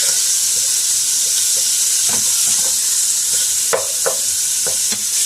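Crumbled keto food sizzles steadily in a pan, a continuous frying hiss with occasional stirring scrapes and pops, close and loud with no voices.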